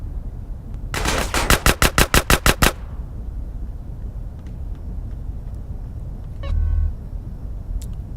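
A rapid burst of about a dozen loud submachine gun shots in GTA San Andreas, close and sharp, then a quieter stretch with faint game sounds.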